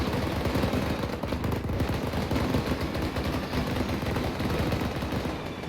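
Sustained, loud machine-gun fire from a military escort vehicle during Marine training, a dense continuous rattle of rapid bursts filling the whole stretch with no pauses and no voices.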